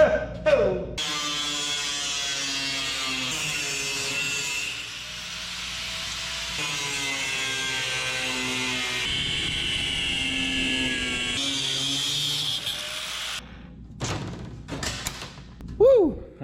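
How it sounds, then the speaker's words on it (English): A thin cutoff wheel grinds a curve into a metal piece, a loud high whine running steadily for several seconds, dipping and resuming, then a man whoops and laughs as the cut ends. "Let's see how our new cutoff wheels can handle a curve."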